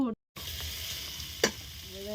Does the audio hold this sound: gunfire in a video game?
no